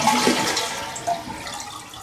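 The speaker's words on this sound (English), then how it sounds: "Now we'll flush it. Hold the handle so it drains as much as possible." A household toilet with its water supply shut off is flushed, the handle held down so the tank drains as fully as possible; a loud rushing gurgle of draining water fills the whole moment, close and alone.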